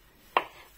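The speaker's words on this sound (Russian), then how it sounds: "сейчас нарезаем картошку" A single knife chop through potato on a board, a short close crisp cut that is heard alone in an otherwise quiet kitchen.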